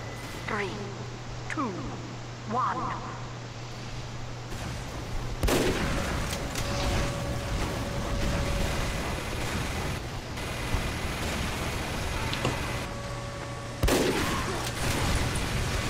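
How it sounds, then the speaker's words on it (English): Scattered gunshots and sniper rifle fire in Team Fortress 2, with sharp cracks over a busy background of game noise at moderate level. "I shot two people with a sniper."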